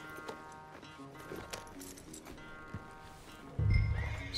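A horse at Pronghorn Ranch in Red Dead Redemption 2 snorts and shifts with soft hoof clops, then gives a louder low blow or nicker near the end, all fairly close in a quiet game scene.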